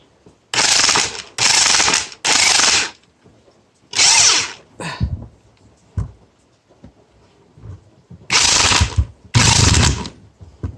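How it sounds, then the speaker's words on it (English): Several loud, rattling bursts of a Porter Cable PCE211 corded electric impact wrench, each lasting about a second, separated by short pauses, with a few quieter clicks and thumps in between. "So yeah, that's what it kind of sounds like. Sounds like an impact driver."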